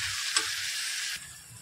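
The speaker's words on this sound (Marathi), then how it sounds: "त्यामुळे कांदा सुद्धा एकदम बारीक म्हणजे नरम होऊन तो एकदम मिक्स व्हायला हवा," Onion and tomato frying in a pan for a dhaba-style lasuni methi masala, stirred as they cook: a steady close sizzle with a brief scrape of the spoon partway through, the sizzle easing slightly near the end.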